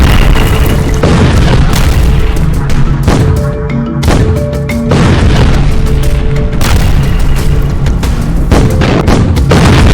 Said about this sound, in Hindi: 27 अक्टूबर की रात हुई भयंकर बमबारी में गाजा में 150 से ज्यादा अंडरग्राउंड सुरंगें पूरी तरह से तबाह हो गई हैं